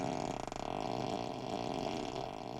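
A wet, bubbly novelty fart sound effect called Ludicrous Fart plays from a Tesla car seat, sounding as one loud, continuous, sputtering blast lasting a couple of seconds.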